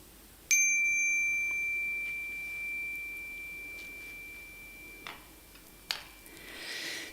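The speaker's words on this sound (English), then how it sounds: "So I'm going to sound this chime." A chime is struck once, ringing as a clear, pure sustained tone that slowly decays over several seconds, with a couple of faint taps and rustles near the end in a quiet room.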